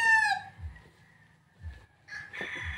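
A rooster crows loudly at the start, and farm fowl give soft low clucks in the pauses after it. Another crow begins near the end, all without speech.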